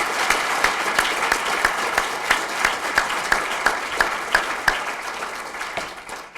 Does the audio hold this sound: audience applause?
yes